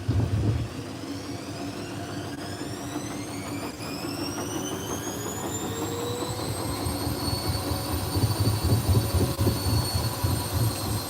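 A washing machine spins up, its whine rising steadily in pitch over a low rumbling drum that grows slightly louder, with no talking.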